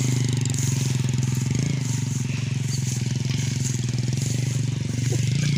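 A motorcycle engine runs steadily and loudly through deep mud, a continuous close drone with slight surges and clattering, mixed with faint background voices.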